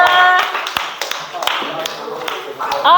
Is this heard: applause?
yes